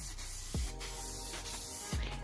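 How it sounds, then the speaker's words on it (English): A hissing spray paint nozzle sprays in an MG ZR engine bay for a few steady seconds, with two soft low thumps standing out among the spray. "I'll show you now that it gives a bit of a better spray pattern."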